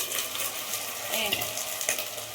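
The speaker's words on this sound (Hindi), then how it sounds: "इसको मैं छौंक मार देती हूँ" Spices tempering in hot oil in a pan for Gujarati-style toor dal, a steady loud sizzle and crackle filling the whole stretch with a brief stir partway through.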